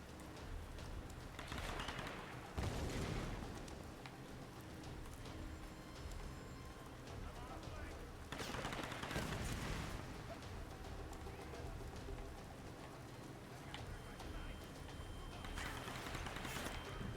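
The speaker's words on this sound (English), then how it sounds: "Where are they shooting at me from up there?" Enemy gunfire in the video game Tomb Raider, a steady rattle of shots with louder bursts of fusillade every few seconds, sustained throughout under a dense game soundscape.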